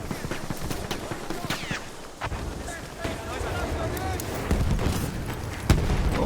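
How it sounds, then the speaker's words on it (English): Battlefield 1 combat with scattered grenade blasts and bursts of gunfire, sharp cracks and booms popping near and far over a steady roar of battle noise, with a voice talking over it. "Grenades all over the place."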